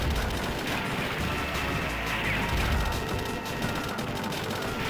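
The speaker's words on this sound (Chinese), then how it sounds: "主炮、副炮、SE 一起向我射击" A video game tank fires its main cannon, secondary cannons and extra weapons at once, giving a dense, continuous barrage of blasts and rattling fire that stays loud and unbroken throughout.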